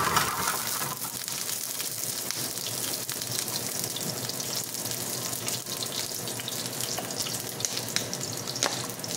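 Garlic frying in olive oil in a pan, a dense continuous sizzle and crackle with occasional stirring scrapes, close and steady throughout.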